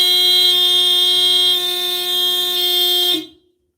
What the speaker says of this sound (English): That's how my alarm goes.